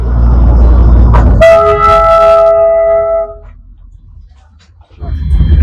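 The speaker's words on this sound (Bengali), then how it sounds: "জাস্ট এইমাত্র আমাদের ট্রেনটা ঘুম স্টেশন ছাড়লো, এবার আমরা দার্জিলিং স্টেশনে ফেরত যাচ্ছি।" Darjeeling toy train pulling out of Ghum station, a loud low rumble of the carriages joined by a sustained horn blast that fades, leaving quieter rolling noise before the rumble swells again.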